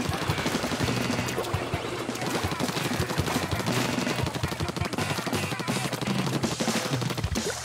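Splattershot Jr. firing ink in Splatoon 2, a continuous rattle of rapid splashy shots layered over game music and action sounds, loud and sustained.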